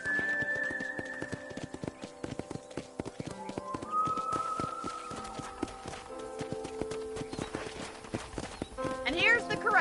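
Steady horse hoofbeats in the video game Red Dead Redemption clip-clop along at a trotting pace, with tonal music and game-like chimes layered over them, growing busier toward the end.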